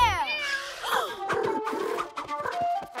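Cartoon cat meowing in a children's animated show, several drawn-out, rising and falling meows close up, mixed with music and other character sounds.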